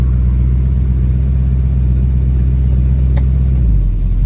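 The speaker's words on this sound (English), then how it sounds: "Settles down to a nice idle. Sounds great as well." A 1971 Ford Mustang coupe's 302 V8 engine idles with a deep, steady, throbbing rumble close by, loud and continuous, settling slightly lower near the end.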